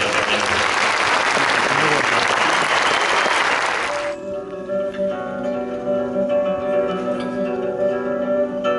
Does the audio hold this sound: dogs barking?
no